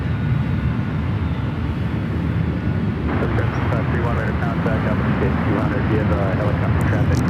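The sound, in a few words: airplanes taxiing at San Francisco airport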